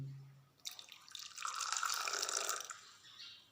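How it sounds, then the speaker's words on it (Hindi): Milk poured into a cup of Kashmiri kahwa tea, a steady liquid stream running for about two seconds, close and fairly soft, with no voices over it. "तो इसमें डालूंगी मैं दूध।"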